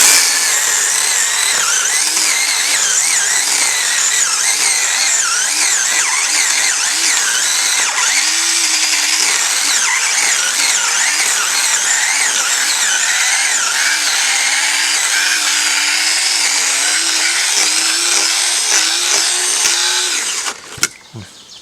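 A cordless mini chainsaw, a Stihl copy, whines steadily as it cuts through wood, its pitch dipping and rising under load for about twenty seconds before it stops abruptly and cuts out.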